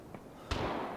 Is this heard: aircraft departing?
no